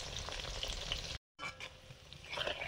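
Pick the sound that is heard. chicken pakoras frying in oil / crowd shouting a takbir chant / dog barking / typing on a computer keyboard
chicken pakoras frying in oil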